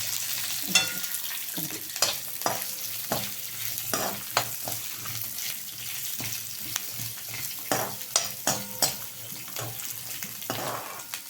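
Small onions, ginger, garlic and tamarind fry together in a pan, giving a steady close sizzle broken by repeated scraping stirs and clinks of a spoon, with no talking.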